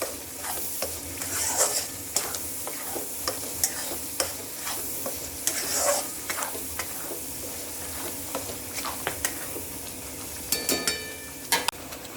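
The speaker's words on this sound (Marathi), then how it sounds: "तेल सुटेपर्यंत याला आपण परतून घेणार आहोत." Mutton masala sautéing in oil for a homemade village-style mutton curry crackles with a continuous sizzle, broken by frequent spoon scrapes and clinks against the pot; no talking.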